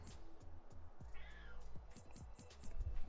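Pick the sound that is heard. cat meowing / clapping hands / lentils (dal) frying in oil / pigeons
cat meowing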